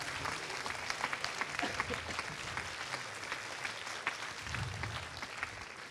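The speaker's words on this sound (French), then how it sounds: "qui se relève et qu'on applaudit." An audience at a short film festival closing ceremony gives sustained applause, a thick, even patter of many hands clapping at moderate distance, with a faint low murmur beneath.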